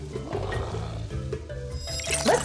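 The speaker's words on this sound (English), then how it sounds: "It's a lion." A lion roars in a savannah scene, a low, rumbling growl sustained through the clip over a dense, layered backdrop, with a brighter burst near the end.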